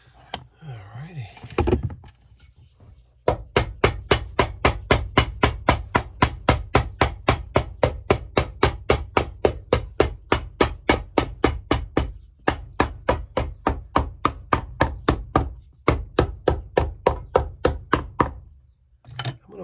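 Steady, rapid hammer blows on a leather stack heel of a vintage Allen Edmonds shoe being resized, dozens of sharp, evenly spaced close strikes in a workshop after a brief quiet start.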